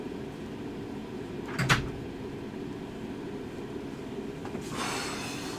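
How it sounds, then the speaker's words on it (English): A cabinet door on a Pump It Up Exceed arcade machine swings shut with one short clunk midway, moderately close, followed by faint rattling against a steady background hum. "Close this door over here."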